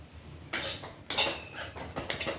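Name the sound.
roasting coconut in a pan for Chennai idli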